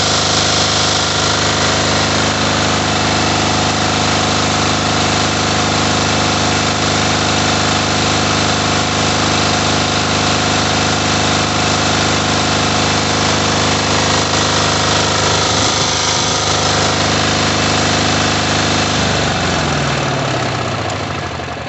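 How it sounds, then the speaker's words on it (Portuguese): A Branco BD 8000e diesel rental generator runs loud and steady, its engine drone continuous, then winds down near the end as it is switched off with the key. "Finalizada a manutenção do nosso gerador de locação, ligando e desligando na chave."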